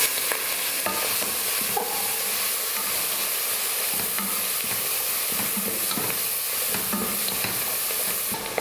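Mint and coriander leaves being sautéed in a pan for mutton biryani give a steady close sizzle and frying hiss, with intermittent stirring scrapes throughout and no talking.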